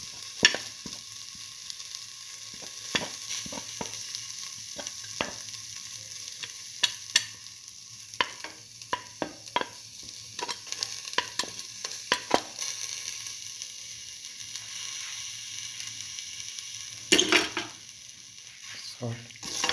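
Ginger sizzles in a hot pan with a steady frying hiss while a utensil scrapes and taps against the pan in irregular stirring strokes, close and clear.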